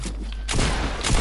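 Gunfire in Fortnite: a short quiet lull, then two loud bursts of rapid shots, the second following about half a second after the first.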